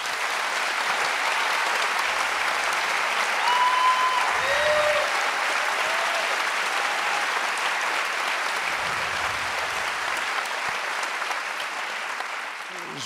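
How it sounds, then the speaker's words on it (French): Audience at a conference opening session applauding the volunteer organisers, a dense, sustained wash of clapping that holds steady and tapers slightly at the end, with faint voices underneath. "Et je crois qu'on peut les applaudir à nouveau."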